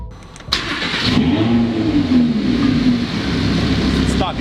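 A rebuilt Lamborghini Huracan on its stock exhaust fires up after a brief quiet moment, then settles into a loud, close idle with rising and falling revs.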